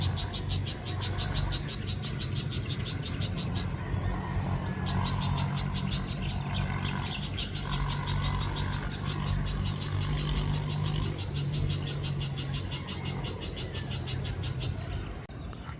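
Noisy flock of tulabong birds calling continuously in a rural outdoor spot, rapid repeated chirping overlapping in a dense chorus, with a steady broadband background throughout.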